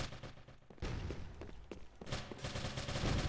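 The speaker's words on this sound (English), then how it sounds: "Bullets flying from both teams here" Dense, continuous gunfire from both teams in a Winter Warzone match, with overlapping shots and bursts clattering loudly throughout and no voices on top.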